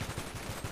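Short rapid burst of game gunfire, rhythmic muffled shots repeating about every tenth of a second, faint and compressed.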